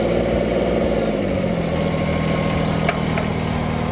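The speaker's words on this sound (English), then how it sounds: "The thing I like about the three-cylinder Kubota diesels, they run really smooth." A Kubota BX2370 compact tractor's three-cylinder diesel engine idles steadily just after starting, a smooth, even low rumble held close and loud throughout with a faint click near the end.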